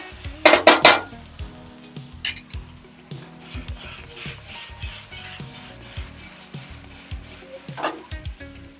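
Fried muthiya tossed with sesame seeds in a pan, a steady sizzle under scraping and clattering of a utensil against the pan, with a few sharp knocks near the start and end.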